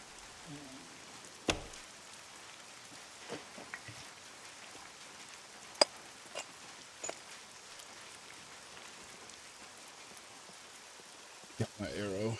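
Steady rain in the video game SCUM hisses and patters throughout, with occasional sharp clicks and thumps standing out above the constant wash.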